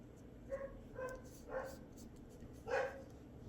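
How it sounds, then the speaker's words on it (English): A dog barks indoors in a few short, fairly quiet yips spaced across the moment, with a louder final bark, over a low background hum and no talk. "Oh, Daisy, what are you barking at"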